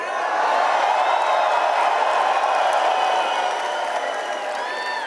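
A large outdoor rally crowd of about 5,000 people in British Columbia cheers and applauds steadily, a dense, loud wash of clapping and whoops that holds for several seconds.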